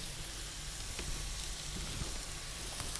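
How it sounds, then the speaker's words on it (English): Ginger and star anise sizzle in hot oil in a pan, making a loud, dense, continuous crackle close by with a few small pops and no talking. "we're going to start off by dropping in the ginger, a star anise."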